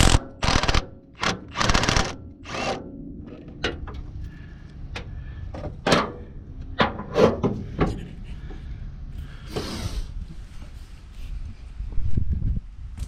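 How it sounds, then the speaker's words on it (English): Tools work at a bolt on the steering rag joint of a 1966 car, giving a run of sharp knocks, clicks and scraping metal taps at close range, loud at first and then sparser, with no talk. "I'm gonna start out by trying to get the bolt out"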